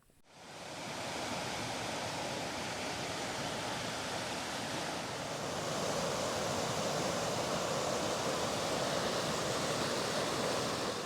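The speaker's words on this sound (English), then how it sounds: "This stream keeps producing more waterfalls" Mountain stream tumbling over a series of small waterfalls in the Scottish winter highlands, a constant rushing wash of water that swells in slightly after the start and holds steady, with no voices.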